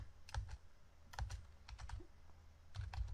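Code being typed on a computer keyboard, close-up clusters of crisp key clicks arriving in short bursts with brief pauses between them, quiet and alone with no talking.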